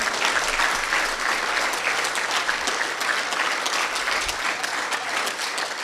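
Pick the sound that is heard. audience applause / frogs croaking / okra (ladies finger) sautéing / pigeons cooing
audience applause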